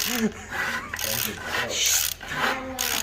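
Scraping crud off the surface of a 225 engine part during a teardown, a close, rough rasping in uneven strokes with short pauses between them, with faint voices behind it.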